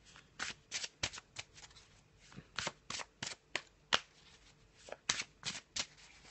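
Tarot cards handled and laid down on a surface: a quick series of soft, crisp slaps and flicks, irregular and close up.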